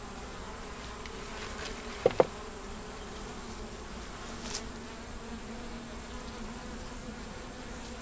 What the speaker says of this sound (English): And they look like they've got more bees now.